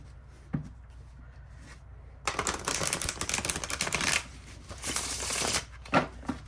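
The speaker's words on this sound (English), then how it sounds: "All right, let's see how this shuffles." Cards of a linen-finish black and white Rider Waite tarot deck riffle-shuffled close up, a dense burst of fluttering papery clicks after a quiet start, followed by a second shorter riffle and a soft bridge.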